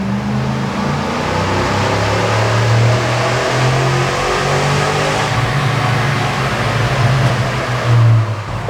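A new car's engine is floored near redline while the car barely moves, giving a loud, sustained high-rev drone with steady harmonic tones and no talking.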